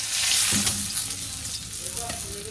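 Vegetables sizzle and fry in a pan, a steady crackling hiss with occasional stirring scrapes, close and moderately loud.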